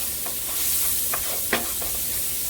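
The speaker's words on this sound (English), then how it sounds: "And you're going to let that cook for about 2 minutes. And stir that around" Beef short ribs, pancetta and shallots sizzle in rendered grease while being stirred, a steady close hiss broken by a few short scraping strokes.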